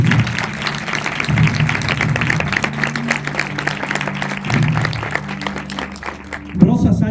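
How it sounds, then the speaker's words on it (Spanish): Audience applause at a stage event featuring three mediums, clapping heard beneath louder talk and music-like tones, with intermittent swells throughout. "Marta Nisa, un aplauso por favor."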